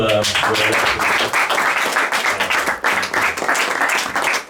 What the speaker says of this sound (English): A big round of applause to